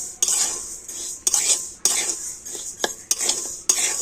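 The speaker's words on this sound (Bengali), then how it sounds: "আর এবার আমি শুকনো কড়াতে মুগ ডালটা একটু ভেজে নেব।" Mung dal dry-roasts in a dry pan while a utensil stirs it, giving repeated sharp scraping and rattling strokes about every half second over a faint background hiss, with no voices.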